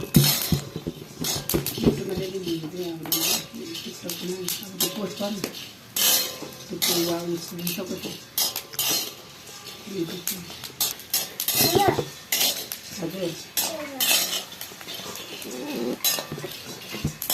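Ingredients being fried and stirred in a metal pan by a fire, with repeated clanks and scrapes of a utensil against the pan, loud and close, interleaved with speech throughout.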